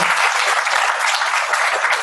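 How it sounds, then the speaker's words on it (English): An audience at a graduate school orientation gives a round of applause, loud, dense, continuous clapping from a large crowd throughout. "Give them a round of applause if you will."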